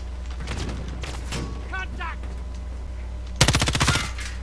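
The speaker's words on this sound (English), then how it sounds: "Oh, shooting." A loud burst of rapid automatic gunfire from the video game Warzone breaks in near the end, after people talk over quieter game ambience.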